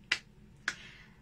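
Two sharp, isolated claps or snaps about half a second apart, close and crisp over a quiet background, during a virtual children's circle-time song at a public library.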